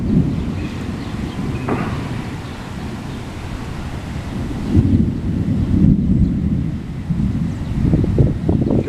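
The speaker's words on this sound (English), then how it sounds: "So some flash in the clouds, a lot of thunder, so when there's one, there's another." Heavy rain and thunder during an August thunderstorm in Poughkeepsie in the Hudson Valley, New York: continuous loud rumbling and roaring with swelling peaks of thunder, plus strong wind buffeting against the microphone.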